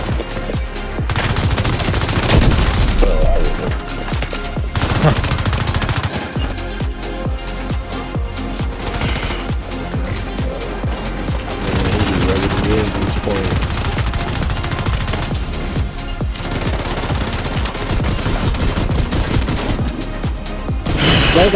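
Gunfire in The Division 2: dense automatic bursts and heavy shots crackle almost nonstop for over twenty seconds, loud and close, with brief lulls and players talking over the action.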